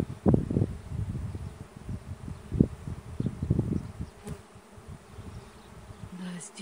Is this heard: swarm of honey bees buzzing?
yes